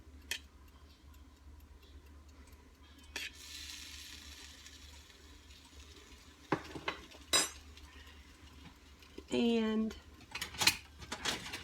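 Cocoa powder and melting butter stirred in a pan, a faint steady scraping with sharp spoon taps and clinks against the metal, close up, with a brief spoken word and another short voice partway through.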